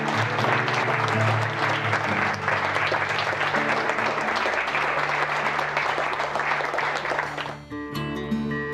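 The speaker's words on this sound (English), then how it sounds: "So give them a round of applause." An audience at a live event applauds loudly and continuously, a dense wash of clapping that holds for several seconds before thinning out near the end.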